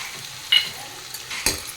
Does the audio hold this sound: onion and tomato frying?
yes